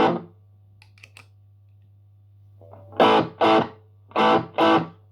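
Electro-Harmonix Canyon delay and looper pedal set to its distortion mode, producing four loud, buzzy distorted bursts in the second half after a near-silent stretch with a low steady hum and a few faint ticks.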